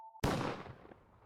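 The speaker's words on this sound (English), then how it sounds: "The gunshot had echoed from outside" A single loud gunshot cracks sharply after a brief tone, then rolls into a long, decaying echo as if fired outside near a parking lot.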